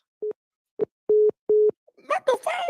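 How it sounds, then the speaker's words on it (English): Phone line after a call is hung up: four short steady tone beeps at irregular spacing, clear and alone, then voices begin talking. "the phone hung up."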